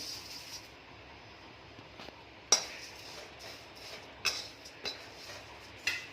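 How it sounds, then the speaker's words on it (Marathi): Poha (flattened rice) dry-roasting in a pan, a faint dry rustle with occasional sharp metallic clinks of a spatula against the pan, quiet and close with no talking. "आता मी पोहे भाजून घेत आहे"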